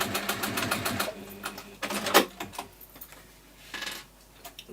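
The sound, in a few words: sewing machine top-stitching fabric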